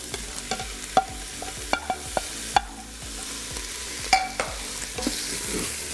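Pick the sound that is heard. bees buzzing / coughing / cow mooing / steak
steak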